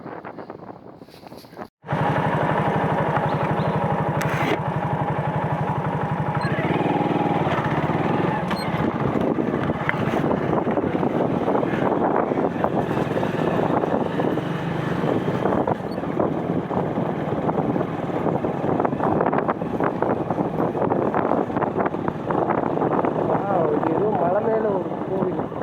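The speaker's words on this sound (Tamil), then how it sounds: "நம்ம பைக்கில் ஒரு ரவுண்டு போயிட்டு வருவோம்." Motorbike ride along a country road to a small hill temple, with steady engine and wind rush continuing throughout, someone talking over it much of the time.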